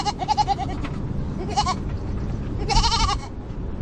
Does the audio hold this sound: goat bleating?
yes